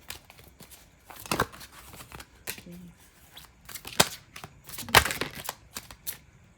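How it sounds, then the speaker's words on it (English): A deck of tarot cards is shuffled by hand, giving sharp, irregular riffling snaps and soft rustles close by, with brief quiet gaps between bursts. "I am shuffling the cards over here."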